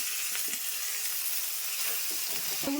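Boiled potatoes frying in a spiced curry base in oil, a steady close sizzle with faint stirring scrapes throughout.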